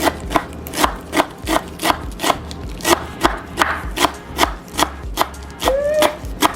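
A kitchen knife chops food on a board in a quick, steady rhythm of crisp, close knocks, roughly three per second, with a faint voice and a brief squeak near the end.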